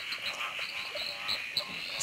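Southern emerald spotted tree frog (Litoria tyleri) croaking in repeated short calls, fairly faint and steady over a constant night hum, with no voices.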